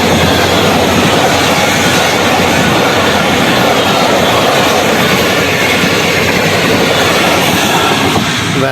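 A passenger train passes close by near a village bridge, making a loud, continuous rumble and rattle of wheels and carriages that fills the whole stretch with no voices.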